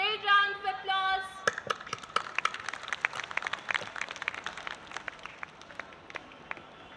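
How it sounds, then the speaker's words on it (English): An audience at a school annual day claps in a dense burst of applause that follows a short sustained tone, then gradually thins out and softens. "welcome our little cute naughty animals with a great round of applause"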